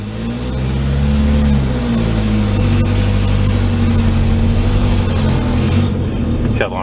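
1950s Morris Oxford engine humming while driving with dragging brakes, a loud steady low drone with harmonics that climb briefly early on, then settle and fade near the end.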